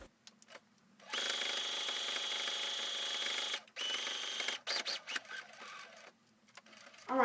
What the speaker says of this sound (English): I'm doing a second row of stitches, and now I'm lining up the edge of the facing with 1/4 inch.